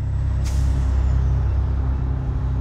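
A large truck pulls up, its air brakes releasing a sharp hiss, then settling into a deep, steady diesel idle that rumbles loudly throughout.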